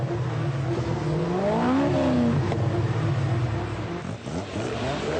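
An Aston Martin Vantage engine revs hard in a continuous mid-pitched roar, the pitch sweeping up and easing back as it climbs through the range, loud and close with no talk over it.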